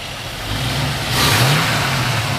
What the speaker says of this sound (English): Nice, smooth running small block.